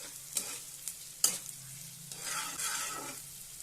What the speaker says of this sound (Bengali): পেঁয়াজটাকে ভালোভাবে নাড়াচাড়া করে 4 থেকে 5 মিনিট সময় নিয়ে লাল লাল করে ভেজে নিতে হবে।